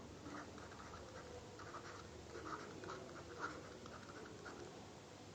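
Chalk or marker writing on a classroom board during a lesson on spinning cotton yarn, steady scratchy strokes in short bursts, moderately close, with no talking.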